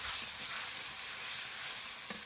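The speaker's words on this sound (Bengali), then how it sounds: "টমেটোটা দিয়ে ভালোভাবে কষিয়ে নেব।" Chicken and fat ghugni masala with tomato sautéing in a pan, a close, steady hiss of frying with a couple of faint stirring knocks.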